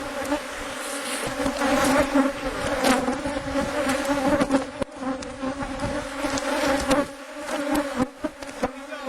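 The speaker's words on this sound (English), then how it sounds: "We're looking at bees all on the top bars of the entire top box, number 5." Honey bees crowd the top bars of the fifth hive box, and their buzzing hums on steadily and fairly loud, with no voices.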